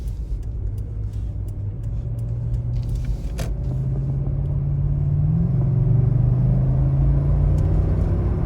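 A Lexus GX 460 SUV on the move produces a steady, loud interior road rumble with low engine drone, building slightly in strength as it drives smoothly along, without speech.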